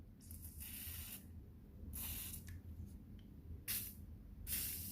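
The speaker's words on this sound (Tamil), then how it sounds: "WD-40 கொஞ்சோண்டு அடிச்சிருக்கு." WD-40 is sprayed onto the bearing of an outdoor AC unit fan motor in several short, hissing bursts separated by pauses, fairly close over a low steady background hum.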